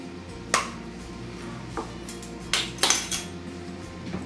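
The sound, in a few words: stirring minced onion into baked beans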